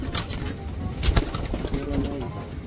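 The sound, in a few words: racing pigeon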